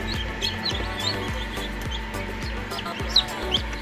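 Newly hatched chicks peep in high, rapid chirps while hens cluck softly underneath, with a steady incubator hum in the background.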